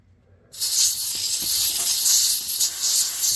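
A loud, steady hiss of compressed air sprayed from a can into a SwissBuck pocketknife, beginning abruptly after a brief silence and holding continuously with slight fluctuations.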